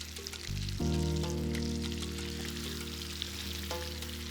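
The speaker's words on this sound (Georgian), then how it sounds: "მინდაურს დავუბრაწავ დაახლოებით 5-7 წუთის განმავლობაში ორივე მხრიდან" Food browning in a greased frying pan, a steady close sizzle that swells as more is laid in, with a few soft clinks and no voices.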